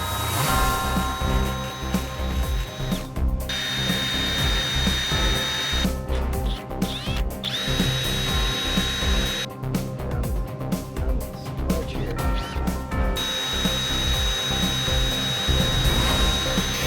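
A power drill bores slowly through material at an off-road campsite in Arizona desert country, a loud continuous grinding whine with brief pauses and changes in pitch as the bit works through.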